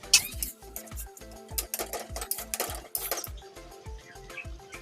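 A metal spatula or spoon scrapes and clanks in a pan as cooked, softened tomatoes are mashed for a tomato chutney, giving a quick rhythmic run of close, bright clinks and scrapes.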